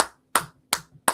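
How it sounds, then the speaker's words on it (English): Three sharp, separate hand claps at an even pace, close and crisp with short gaps of quiet between them. "Are you hearing clapping? I'm hearing clapping."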